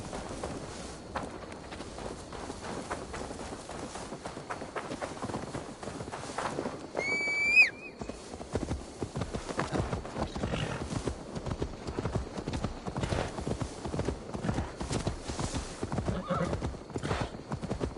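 A horse's hooves clip-clop steadily in Assassin's Creed Valhalla, and a sharp whinny rings out partway through before the rhythmic hoofbeats carry on at a quicker pace.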